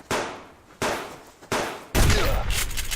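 Repeated gunfire from an AI hunter in the survival game Subsistence, four sharp loud reports with decaying tails, the last one heavier and followed by sustained rumble.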